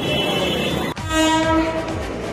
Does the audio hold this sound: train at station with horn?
yes